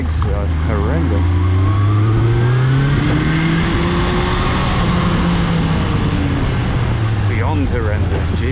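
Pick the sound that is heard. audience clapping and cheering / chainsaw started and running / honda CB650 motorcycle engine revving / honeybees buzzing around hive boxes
honda CB650 motorcycle engine revving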